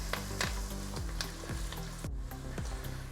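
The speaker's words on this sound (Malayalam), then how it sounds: "ഇനി ഇളക്കി കൊടുക്കാം. ഇതൊരു 5 മിനിറ്റ് ഇങ്ങനെ ഇളക്കി കൊടുക്കുക കേട്ടോ." Fish pickle with green chillies and curry leaves sizzles in a pan as a spoon stirs it, giving a steady frying hiss broken by repeated scraping strokes.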